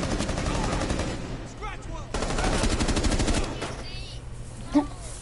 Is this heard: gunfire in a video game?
yes